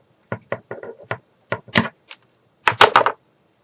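A wooden stick being cut at an angle with a hand tool for a wall hanger: a series of sharp, close, dry clicks and snaps at irregular spacing, ending in a denser cluster of cracks.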